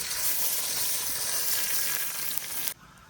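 Whole spices sizzling in hot oil: bay leaves, dried red chillies, cardamom, cinnamon and cloves, cooked outdoors. A loud, close, continuous sizzle that drops away abruptly near the end.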